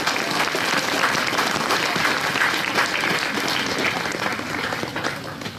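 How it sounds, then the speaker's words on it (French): Steady, dense audience applause at a wine brotherhood's Saint Vincent induction ceremony in Chablis, sustained and fairly loud throughout with no voices standing out. "On peut l'applaudir."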